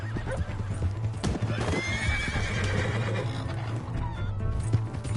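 Hooves clip-clopping in a steady rhythm with a horse whinnying over it in Red Dead Redemption 2, close and clear against a low background hum.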